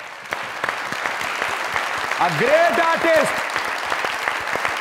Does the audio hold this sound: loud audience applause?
yes